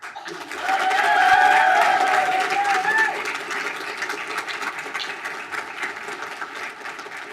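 Audience applause with some cheering for a five-year employee service award at a governing board meeting, a broad steady clapping wash that swells early and holds through the clip, with a faint voice rising briefly over it.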